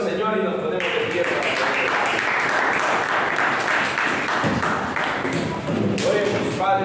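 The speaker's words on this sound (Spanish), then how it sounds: "Démosle un aplauso al Señor y nos ponemos de pie" Church congregation applauding at the close of a Spanish-language evening service, a loud, close wash of clapping with voices mixed in.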